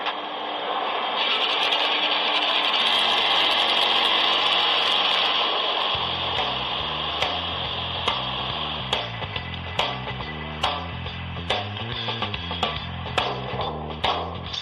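A Vespa scooter engine runs on a workshop test bench, a loud steady mechanical drone that shifts partway through into a rhythmic, pulsing idle with regular sharp ticks.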